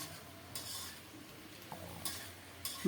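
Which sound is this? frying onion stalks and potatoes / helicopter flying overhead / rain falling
frying onion stalks and potatoes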